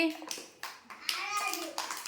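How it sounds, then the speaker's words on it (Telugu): Children in a classroom give a short burst of clapping for a classmate, with a voice speaking over the scattered claps. "క్లాప్స్ కొట్టండి విశ్వతేజకి"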